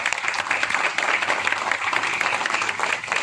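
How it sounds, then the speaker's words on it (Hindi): Steady applause from a crowd gathered outdoors in Chandigarh honouring police Covid warriors, dense continuous clapping held at an even, fairly loud level throughout. "तालियों की आवाज अभी भी कम है।"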